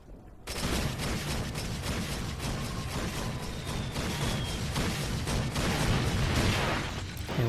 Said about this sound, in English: Now we just gotta plant the explosives on that anti-aircraft tank.